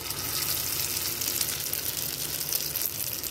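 Stuffed pointed gourds (potol) frying in a little oil give off a steady, close sizzle, a dense crackling hiss that stays even and unbroken from start to finish.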